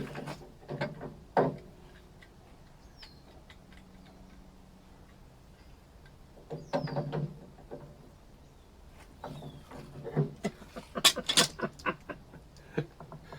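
Metallic clicks, taps and ratcheting come from a wrench working to remove the gas regulator from a gas cooktop. The sounds are scattered and fairly quiet, with clusters of louder clinks near the end.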